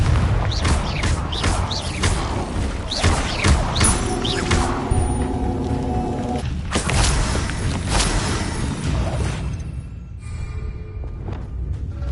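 Confringo fire-blast spell in Hogwarts Legacy, a series of booming thuds and whooshing impacts within busy, loud combat effects that thin out toward the end.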